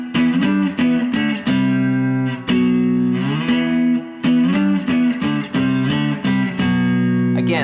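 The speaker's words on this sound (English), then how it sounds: "If we start off with a power chord" An electric guitar plays a riff as all-downpicked power chords, loud and close, with chugging repeated strikes, short gaps and slides between positions, no voices.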